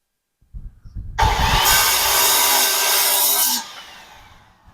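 A power saw cuts through a short wooden board while a feeder is being installed, making one loud, steady rasping cut of about two and a half seconds that then spins down and fades.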